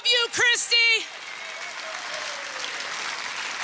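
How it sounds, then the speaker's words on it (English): A rally crowd in Cedar Rapids, Iowa keeps up steady applause beneath an amplified announcer's voice, a broad, even wash of clapping and cheering that continues alone after the speech stops. "Keep your applause going for the Honorable Ashley Hinson, Iowa State Representative."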